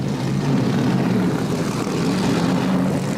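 Race car engines fire up at the start of the 1984 Daytona 500, a steady, loud, broadband roar of many engines droning together with no talk.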